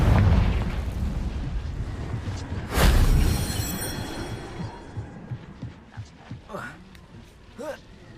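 A Confringo spell blast erupts in the Hogwarts Legacy video game, one loud, deep explosive boom that decays into a rumbling tail, with a voice speaking faintly afterwards.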